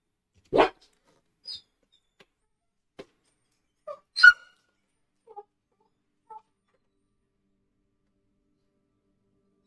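Dogs bark in the Planet Zoo video game at an Indian carnivore sanctuary, giving a few short, sharp barks spaced a second or two apart against an otherwise silent background.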